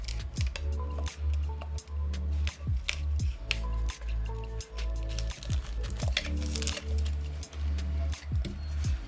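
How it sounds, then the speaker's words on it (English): Repeated crisp snipping cuts in a steady rhythm, close up, with a dense clattery background and no talking. "scissors, of course"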